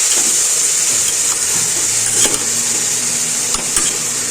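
Turnip, beans, carrot and cabbage sauté in a pan for sambar rice, producing a steady, close, loud sizzling hiss that runs without a break and has no voices over it.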